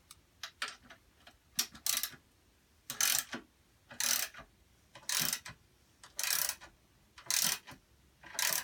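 Ratchet wrench turning the tensioner bolt on a Sole elliptical's flywheel assembly, giving about eight short bursts of rapid metallic clicking, each under a second long and separated by brief pauses, close and fairly loud with no talk.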